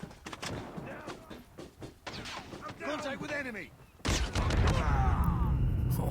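Rapid gunfire bursts in Call of Duty Mobile, sharp cracks and volleys layered close under a voice talking, ending in a sustained heavy rumble of continuous fire.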